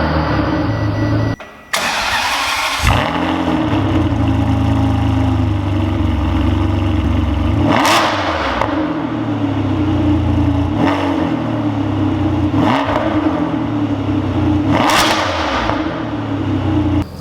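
A Ferrari 612 engine starts with a sharp crank and bark, then settles into a deep idle punctuated by several quick throttle blips that rise and fall, loud and close, with no voices.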